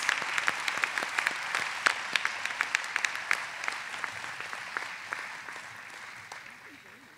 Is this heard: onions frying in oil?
no